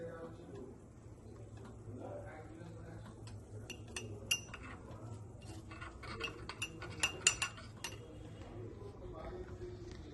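A spoon clinks against a cup while coffee is mixed with boiled milk, a series of bright taps growing quicker and louder toward the end, with faint talk in the background.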